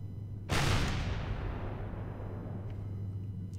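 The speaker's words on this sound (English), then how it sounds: "Something in over there shooting at me, red shots." A single loud energy-weapon shot from the space-survival game Empyrion cracks out sharply, then trails off in a long, fading rumble over a steady low hum.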